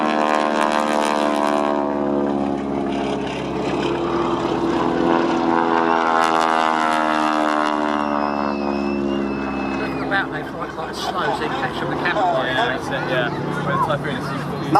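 Propeller biplane carrying a wing walker at an airshow, its engine a loud steady drone with shifting harmonic pitch throughout, a commentator's voice talking over it.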